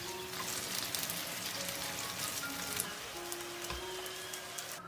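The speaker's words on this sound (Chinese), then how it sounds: "也可以用油再煎一下，吃起来表皮是酥脆的" Steamed sticky rice dumplings pan-frying in oil give a steady, dense crackle and sizzle, close and even throughout, with no voices.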